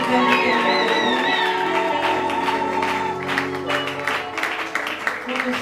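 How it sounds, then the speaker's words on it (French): Applause and crowd noise for the pastoral couple at a church music concert, steady clapping and cheering from the audience with some voices, tonal feedback-like ringing over it. "Sous vos applaudissements, s'il vous plaît, révérend, le couple pastoral"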